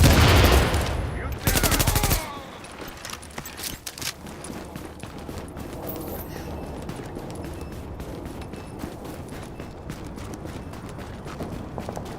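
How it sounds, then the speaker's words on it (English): Gunfire in The Division video game: a loud burst of rapid shots in the first two seconds, then a long stretch of softer scattered shots, impacts and footsteps continuing to the end. "Shit, grenade!"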